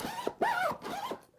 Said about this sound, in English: What that produces is super smooth zipper action